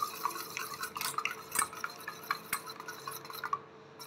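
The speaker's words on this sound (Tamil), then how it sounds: "பெப்பர் சேர்த்து நல்லா பீட் பண்ணி விட்டுக்கலாம்." Eggs and pepper being beaten in a bowl, a quiet, rapid clatter of utensil against the dish with small liquid splashes, fairly close and uninterrupted.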